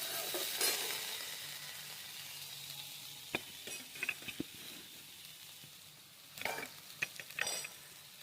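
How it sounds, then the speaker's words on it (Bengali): Asafoetida tempering sizzles faintly in oil, a quiet steady hiss broken by several sharp clicks and clatters of utensils and stirring toward the end. "এটা হিং ফোড়ন দিচ্ছি তো।"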